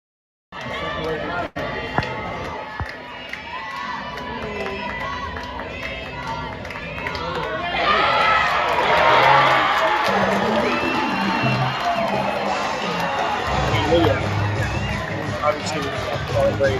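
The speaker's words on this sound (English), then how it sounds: "You'll be able to hear the big cheer when it's a strikeout" Crowd at a softball game breaks into a loud cheer after a strikeout, the 18th of the game; a steady buzz of voices and movement swells into sustained cheering and whoops around the midpoint and stays loud to the end.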